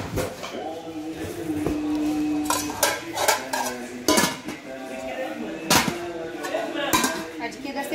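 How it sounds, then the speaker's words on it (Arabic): Heavy aluminium cooking pots clink and clank repeatedly up close, in scattered bursts, while a person talks over them. "الطقم ده 8 حلل الومنيا تقيل"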